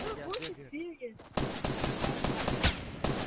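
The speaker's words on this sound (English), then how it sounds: "I'm shooting from the left." Gunfire in a World War 2 video game: after a quieter opening with some voices, rapid bursts of automatic shots crackle in quick succession, fairly loud and sustained, with talk mixed in.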